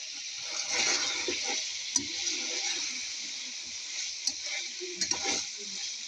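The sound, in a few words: onion rings frying in oil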